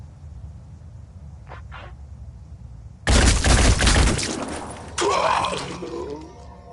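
Gunfire in the video game Wetbugs erupts abruptly as a loud, dense burst after a quiet lead-in, then a second heavy volley follows moments later.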